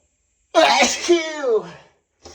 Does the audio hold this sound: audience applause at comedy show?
no